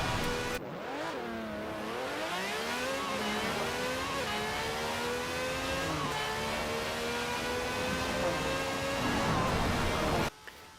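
A car in the racing game Forza Horizon 4 accelerates hard, its engine note climbing steadily through several gear changes in rising harmonic sweeps, loud and continuous for about ten seconds before cutting off abruptly.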